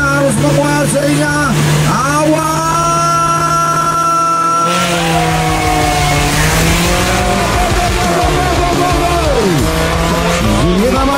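Pickup trucks at a drag race in Bandung roar continuously as engines rev hard and climb through the gears, loud and sustained, with pitch sweeping up and dropping at each shift.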